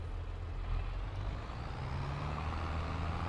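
A 190-horsepower tractor in Farming Simulator rumbles with a low, steady engine drone as it drives off. The sound is continuous and moderately loud, with a faint rising tone. There is no speech.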